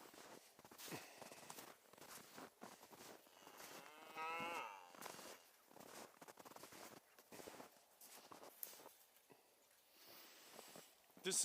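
A Minnesota breeding cow herd of grass-fed beef cattle on winter pasture, lowing in repeated moos that sound fairly distant and soft over faint outdoor background noise.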